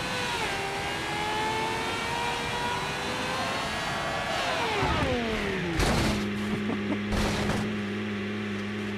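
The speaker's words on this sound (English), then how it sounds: "Sounds like an F1 car." A BeamNG F1 car engine screams at high revs, then drops sharply as the car decelerates into a lower idle-like drone, with a few sharp bangs and crackles near the end.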